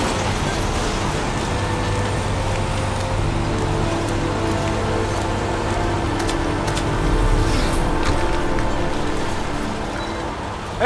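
Rain falling in the video game Heavy Rain, a steady dense hiss of rainfall with a low background hum and occasional faint clicks, continuous and unbroken with no talk.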